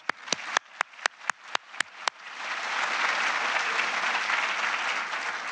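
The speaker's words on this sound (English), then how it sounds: "Lucy, please, a round of applause." At a Ken Burns Vietnam War event, a few sharp, evenly spaced individual claps ring out close by, then the crowd joins in and swells into sustained, full applause that holds to the end.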